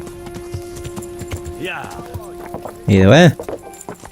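Horse hooves clip-clop at a riding pace in Kingdom Come: Deliverance, a light rhythmic patter under a man's speech, with a loud horse whinny bursting in briefly near the end.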